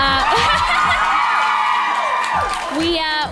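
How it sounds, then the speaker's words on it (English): A loud crowd of fans screams, whoops and cheers at an interview event, a continuous high-pitched roar with rising shrieks throughout, carrying over any talk. "all the fans have been screaming at you since you walked out"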